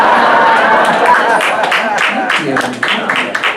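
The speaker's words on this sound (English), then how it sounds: "First applause break of the evening" Comedy club audience at the Milwaukee Improv breaks into applause and cheering, a dense wash of clapping that swells and then tapers, with a performer speaking briefly over it.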